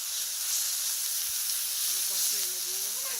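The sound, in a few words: ginger, onion and mustard paste sizzling in hot oil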